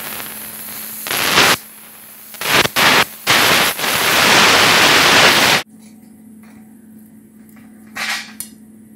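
Metal bars are welded onto a 125cc quad frame: several bursts of loud, harsh crackling hiss, some short and one long, stop abruptly, followed by a quiet stretch and a faint brief crackle.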